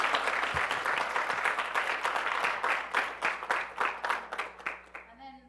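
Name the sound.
audience applause for Randi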